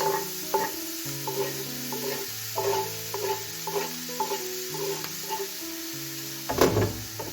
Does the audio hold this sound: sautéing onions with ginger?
yes